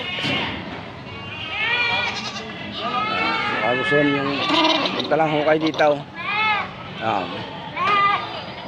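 Several goats bleat in wavering cries close by at a livestock auction market in Batangas, Philippines, overlapping with someone talking throughout.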